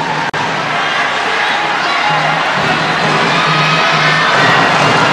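A capacity crowd at a badminton match cheering and whooping, a loud continuous roar of many voices filling the hall with a sharp clack near the start.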